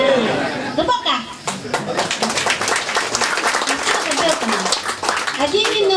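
Guests at a wedding anniversary celebration clap in a brief, uneven burst, mixed with laughter, chatter and a voice talking over the clapping.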